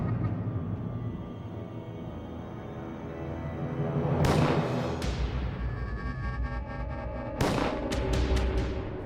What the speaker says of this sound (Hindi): प्रभु, गोलियां चलने की आवाज।